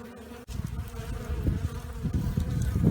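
Dense, steady buzzing of many honeybees close by at the hive entrance, a continuous low drone that swells slightly louder toward the end, with no voices.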